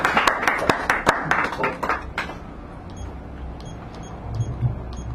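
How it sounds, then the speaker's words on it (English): Brief audience clapping at a poetry reading in a San Francisco cafe, a scattering of sharp hand claps that tapers off after a couple of seconds, followed by quiet room noise and faint clicks. "Give him a round of applause or a parallelogram worth."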